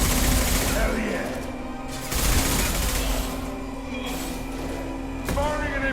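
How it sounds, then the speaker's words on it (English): Impact shot gunfire in the video game Mass Effect 2 sounds as a few loud, sharp blasts with ringing tails, spaced a couple of seconds apart, mixed with game effects and some voice. "Firing an impact shot!"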